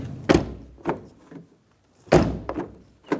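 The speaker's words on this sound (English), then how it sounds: "Now let's make sure the door opens and closes." The front door of a 2012-2018 Ford Focus is opened and shut twice, each cycle a latch click followed by a solid thunk, close and loud with brief quiet between.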